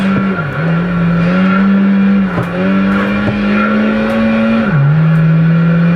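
Engine of a race car in Project Gotham Racing 2, a loud, sustained high drone that dips briefly at gear changes, with faint tyre noise and no voices.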